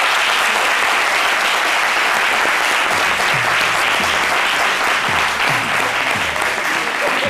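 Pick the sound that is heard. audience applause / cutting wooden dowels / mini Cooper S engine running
audience applause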